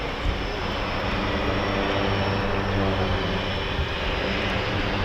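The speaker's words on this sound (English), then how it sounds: "in the background that you can hear a little bit more prominently, that's just started up, it is a C-146, a Wolfhound" A C-146 Wolfhound aircraft engine runs at an airfield shortly after starting up, giving a steady, unbroken droning roar heard from a distance in the background.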